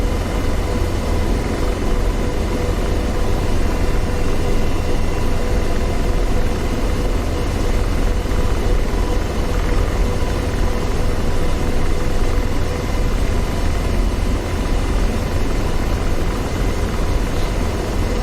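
Constant loud drone of an AH-64D Apache helicopter's rotor and engine in the DCS World flight simulator, a dense unbroken roar with faint rhythmic blade thrum and no pauses.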